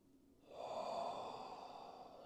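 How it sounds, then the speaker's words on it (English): One big, breathy exhale through the mouth during a yoga practice, rising quickly and trailing off softly, close and fairly quiet with no talking. "big exhale through the mouth"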